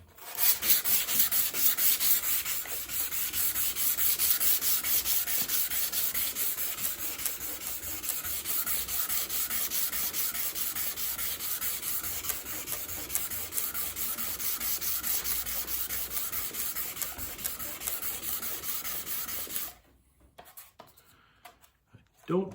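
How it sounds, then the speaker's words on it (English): Steady hand sanding with 400 grit sandpaper on the body of a 1984 Corvette, a continuous close rubbing rasp lasting about twenty seconds before stopping abruptly. "let's get some sanding done and see what happens. This is 400 grit."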